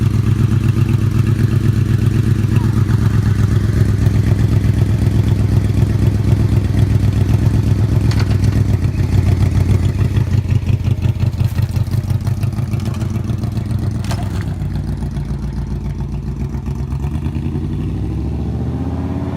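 A 2006 Yamaha Royal Star motorcycle rumbles loudly and steadily close by, a deep idling throb that thins and eases as it pulls away and fades a little.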